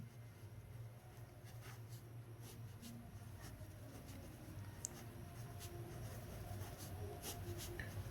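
A pen scratches numbers onto paper by hand, with soft, faint strokes and small taps recorded close against a low steady hum. No one speaks.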